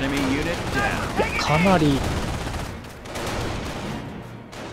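Sniper shots and gunfire from the Company of Heroes battle at Carentan in Normandy crackle in bursts over a steady battlefield din, with someone talking over the first half.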